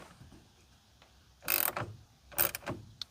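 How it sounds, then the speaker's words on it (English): A gimbal-headed ratchet clicks while tightening a bolt on a 2004 Astro Van side mirror, with two short bursts of sharp, close ratcheting clicks separated by a brief pause. "That's what I like about this ratchet."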